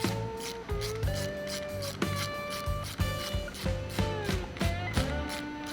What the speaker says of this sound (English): Now we're gonna have to go in with the T40 and we'll break this tail light loose.